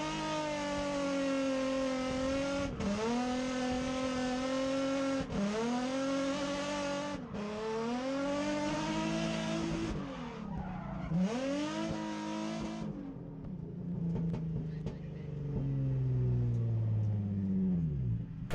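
Race car on a qualifying lap at Orange Show Speedway, engine roaring loudly close up and rising through gears with several shift breaks, then easing off to a lower, rougher idle near the end.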